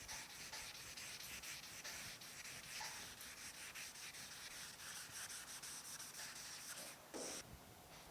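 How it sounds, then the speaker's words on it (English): Steady hand sanding of dry guide coat on the sheet-metal hood of a 1950 Chevy truck: faint, continuous rhythmic scratchy rubbing strokes with no talking. "and then we'll keep sanding on it"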